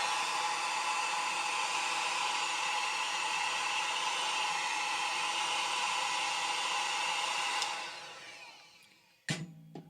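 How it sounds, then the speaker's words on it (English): A hair dryer blows steadily and loudly on freshly applied decals on a Battletech miniature, then winds down and stops, followed by a brief knock and handling sounds. "Probably going to just hit it with the hairdryer."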